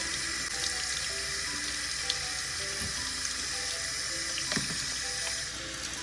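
Tap water running steadily into a sink while a face is rinsed, a continuous close splashing rush with small drips and splashes over six seconds, no voices.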